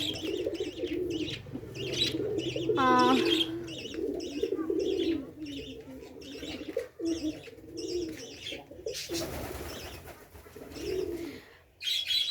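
Native domestic pigeons kept confined on a pigeon farm coo repeatedly in low, throaty bursts, close by, with occasional chirps and brief wing flapping.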